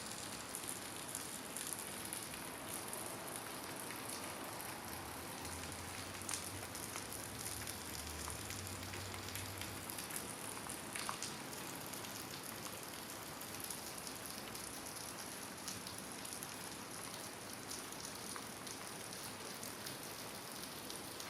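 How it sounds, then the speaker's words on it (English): Heavy pouring rain in a cyberpunk city scene, a dense, steady hiss of drops hitting surfaces with no letup, fairly quiet overall with a brief low rumble partway through. "it is not just raining, it is actually pouring. So let's drag more rain sounds into the project."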